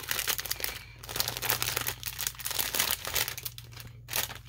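Plastic packaging on a Pineapple Fabrics fran pack crinkles and crackles as it is popped open down the side, in close, bursty rustles with brief quiet gaps.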